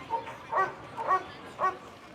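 A police drug-sniffing dog gives three or four short, yelping barks at a fairly even pace, moderately loud against a quiet background.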